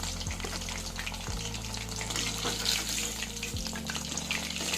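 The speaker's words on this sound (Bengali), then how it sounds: "তেলটা বেশ লাল লাল করে ভেজে নেব" Chicken and potato sticks deep-frying in a pan of hot oil, a continuous bubbling sizzle with a low steady hum beneath, close and even throughout.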